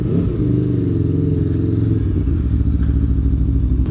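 Aprilia Tuono V4 Factory motorcycle with the exhaust baffle removed, a loud, deep and continuous engine drone while riding, with a slight shift in pitch midway, heard close to the rider.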